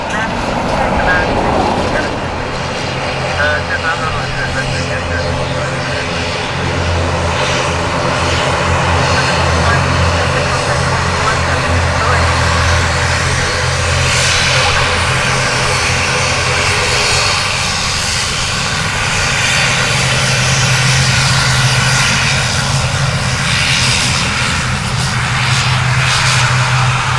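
Aircraft on approach to runway 28 left at Dublin Airport, a loud, steady engine roar with a low drone that builds and holds close by, while air traffic control radio talk carries over it.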